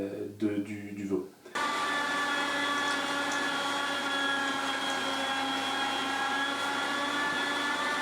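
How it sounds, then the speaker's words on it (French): An electric meat grinder mincing lamb and veal through a coarse plate, a loud steady motor whine that kicks in after a brief stretch of nearby talk and runs without pause. "on a haché nos deux viandes avec le gros calibre"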